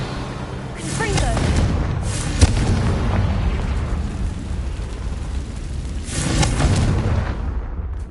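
Confringo fire spell exploding in a Harry Potter video game, heard as a loud, dense rumbling boom with a sharp crack and swelling bursts over a constant roar.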